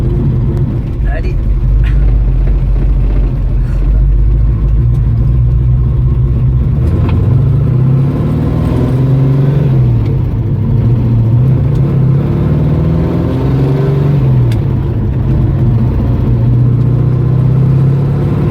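Heavy V8-style engine of a 1967 Shelby GT500 tribute with about 450 hp and a manual gearbox drones and climbs in pitch through rising revs and gear changes, loud and close, with someone talking in French over it.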